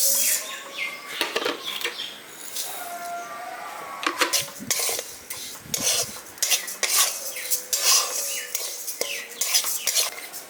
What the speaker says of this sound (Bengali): এবার ডালিয়াটা আমি হালকা একটু ভেজে নিচ্ছি, ভেজে নিয়ে এটাকে তুলে নিচ্ছি।